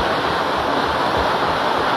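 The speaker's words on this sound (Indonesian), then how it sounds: "Ini langsung dari langit ini air terjunnya ini" Microburst downpour at Wibawamukti stadium, rain pouring from the sky like a waterfall: a dense, steady roar of water with no breaks or voices.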